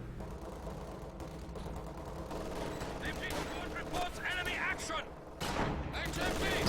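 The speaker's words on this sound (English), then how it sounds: "M1 opens up at long range on the stern panzer." An M1 gun fires at long range on a panzer in the Company of Heroes 2 strategy game, amid a dense clatter of gunfire and explosive bursts with a commentator's voice over the top.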